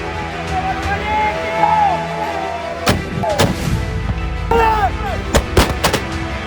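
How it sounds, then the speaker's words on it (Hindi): Weapons of various calibres fire at an Indian Army firing range, with loud, sharp reports spaced irregularly over a droning, tonal background. "यहाँ पे हर कैलिबर के हथियार का यहाँ पे फायरिंग होते हैं"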